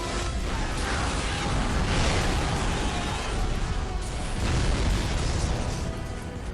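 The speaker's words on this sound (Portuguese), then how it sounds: "Depois ele derrama gasolina em cima de geral e atira nessa galera, causando várias explosões sinistras" Movie scene of several explosions after gasoline is poured over people and shot, a dense rumbling roar of booms and debris, loud and continuous with surging peaks.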